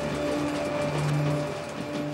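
An Italian armored train from the Second World War rolls along rails in Greece with a continuous heavy rumble, faint rhythmic clatter and steady mechanical tones, close and unbroken.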